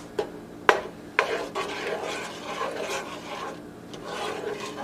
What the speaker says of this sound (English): We're going to keep stirring until the butter is melted and it comes to a slow boil.